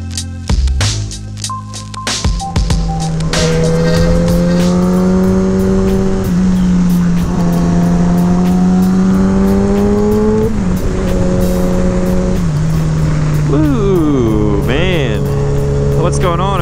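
Motorcycle ridden on the road for errands, its engine droning loud and close with rising and falling pitch as it revs and shifts gears, steady wind noise throughout.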